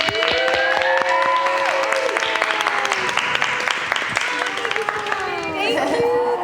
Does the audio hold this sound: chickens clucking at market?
no